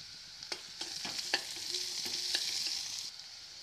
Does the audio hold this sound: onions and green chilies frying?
yes